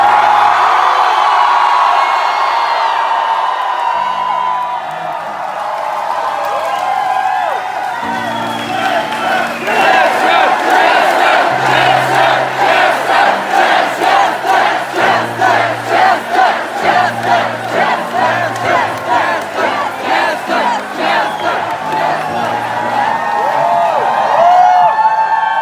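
Concert crowd at a show roaring, cheering and whooping loudly, a dense sustained wall of voices with rhythmic chanting pulses building through the middle, backed by low stage music.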